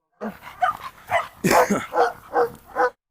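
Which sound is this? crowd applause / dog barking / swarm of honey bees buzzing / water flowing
dog barking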